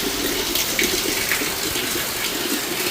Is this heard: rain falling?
yes